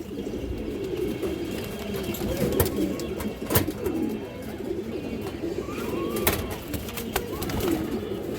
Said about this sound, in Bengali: বিগ একটা কালদম মাদি কবুতর